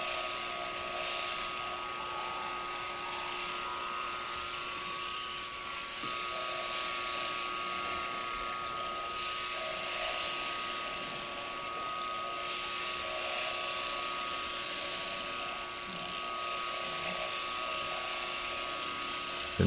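Electric shears run in a steady, loud, high-pitched buzz while sheep and alpacas are sheared, holding a constant drone with only slight swells throughout.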